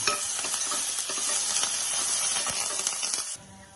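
Dried red chillies, sliced green chillies and curry leaves crackle and sizzle in hot oil with lentils for lemon rice, a dense steady frying hiss with scattered pops and stirring clatter that cuts off abruptly near the end.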